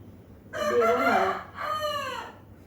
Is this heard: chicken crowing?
yes